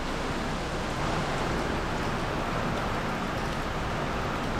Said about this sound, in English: because now it is pouring rain.